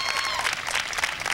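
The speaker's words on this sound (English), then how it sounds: "Reverend Ray Jones of Fremont Bible Fellowship another round of applause, please." Audience at a community family event applauds: a brief, dense burst of clapping from a crowd, close and continuous.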